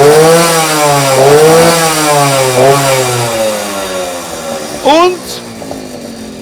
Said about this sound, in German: Okay, und jetzt mal Gas geben.